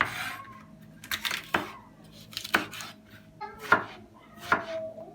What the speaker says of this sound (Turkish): domateslerimizi soyduğum domatesleri küp küp doğruyorum